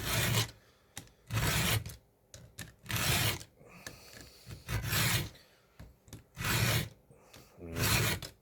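A chainsaw's teeth and rakers are filed together with a new sharpening tool on a ranch: a series of close, loud rasping file strokes in steady rhythm, each about half a second long, with short pauses and small clicks between them.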